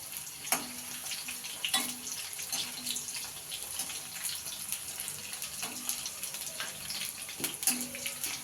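Onion rings frying in hot oil until browned give a steady close-up hissing sizzle, scattered with sharp pops and crackles throughout.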